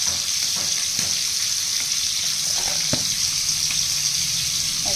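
Prawns coated with turmeric fry dry in a pan without oil, giving a steady, close hiss of sizzling moisture throughout, with a few faint stirring clicks.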